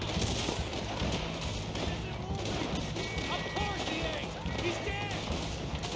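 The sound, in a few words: gunshots in the video game Red Dead Redemption 2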